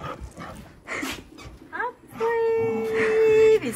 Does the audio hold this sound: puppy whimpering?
yes